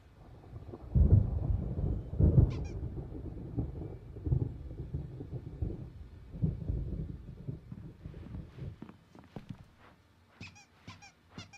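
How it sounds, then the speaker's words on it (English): Thunderstorm in the video game Alan Wake Remastered: deep rolling thunder rumbles in several heavy bursts, fading and returning, with faint crackles near the end and no voices. "There's a storm coming. Oh, what a storm."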